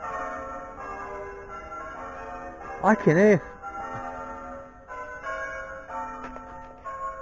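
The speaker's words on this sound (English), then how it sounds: "Right, now the bells have stopped ringing." Church bells ring at night, a brief cluster of bright, resonant strikes standing out at mid-clip over a quiet background, with people talking faintly before and after.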